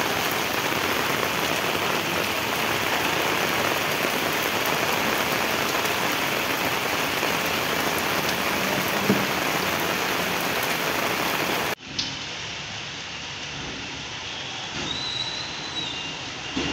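Steady heavy rain pours down in Hapur during summer heat, a dense continuous hiss close by that abruptly shifts to a lighter, duller patter near the end, with no voices.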